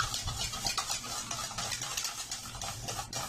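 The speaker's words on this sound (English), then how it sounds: "So we are going to whisk it together." A whisk works through a homemade no-sugar-added ice cream mixture in a bowl, giving a steady, close scraping and swishing rhythm with no one talking.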